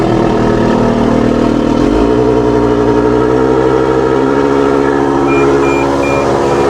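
A tractor's PTO drives a slurry tanker: a loud, steady engine drone with a deep mechanical hum, shifting pitch slightly after a couple of seconds as the machinery settles into a constant run.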